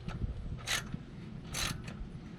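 A small hand ratchet turns a bolt during a leveling kit install on a Jeep Gladiator, giving two short, close bursts of clicking separated by a pause, with low shop noise underneath.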